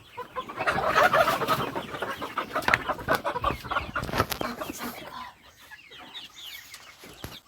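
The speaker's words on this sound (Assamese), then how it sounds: "আমাৰ ফাৰ্মত কিছুমান সোণালী মুৰ্গী আমি কণীৰ কাৰণে ৰখা হৈছে।" Sonali chickens kept for eggs on a poultry farm cluck busily at feeding time, a dense, close chorus of overlapping clucks that thins out toward the end.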